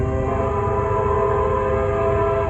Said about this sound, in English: That was a bad horn.